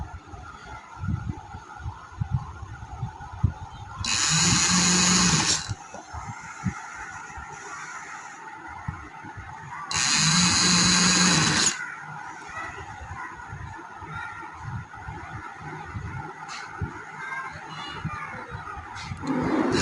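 A sewing machine stitching a double seam on a cotton frill runs in two loud bursts of several seconds each, separated by quieter room noise and faint handling sounds.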